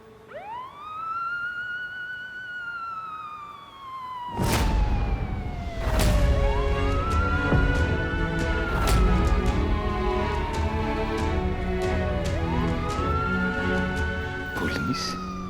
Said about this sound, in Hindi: पुलिस की सायरन की आवाज कैसे आई?